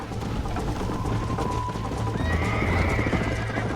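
Horse hooves clip-clop at a gallop with a neigh rising over them in the Red Dead Redemption video game, a steady loud rhythm under ambient game noise.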